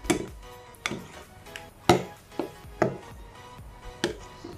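Rujak Aceh fruit salad with mangga kuini mango being stirred in a bowl, a series of sharp clacks and scrapes roughly every half second to second, close and fairly loud, with no talking.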